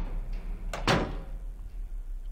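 A door in the horror video game Silent Hill 2 opens with a short heavy clunk and a scraping thud, standing out alone against a low, steady ambient hum.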